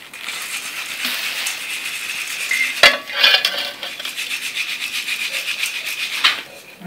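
Saltpeter crystals being ground into powder, heard as a steady close scraping and rasping grind with a few sharper knocks, continuous and fairly loud without speech.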